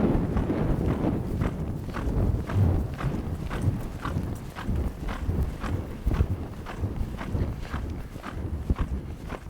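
A reining horse lopes around an arena, its hooves beating a steady three-beat rhythm on the soft arena ground, close and clear, running the whole time with no voices over it.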